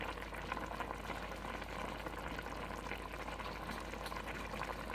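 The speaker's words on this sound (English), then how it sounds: "Alright, we'll let that simmer. We'll cover it up." Chicken adobo with peppercorns and bay leaves simmering in a covered pot, a faint, steady bubbling hiss that continues evenly with no voices.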